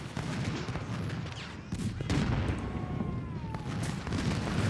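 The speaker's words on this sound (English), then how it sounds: "Keep shooting, boys." Musket volleys from the Civil War battle game Ultimate General: Civil War, a dense, continuous rumble of massed gunfire with overlapping booms, distant and loud, with no voices.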